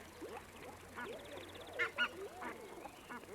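Mandarin ducks calling, a series of soft, fairly close whistled and rising calls spread through the stretch, with a couple of louder bursts near the middle and faint background noise.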